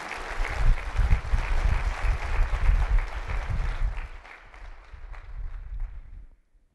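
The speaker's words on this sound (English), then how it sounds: "let's give a round of applause for our wait staff and everyone who's been waiting on us" An audience at a university convocation applauds the wait staff: steady, dense clapping from a large crowd that swells, then thins out over several seconds before stopping.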